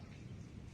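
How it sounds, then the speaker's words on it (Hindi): A brief burst of steady rain falls alongside a low, rolling thunder rumble, dense and unbroken throughout. "बरसात भी उन्हीं में से करिश्मा है।"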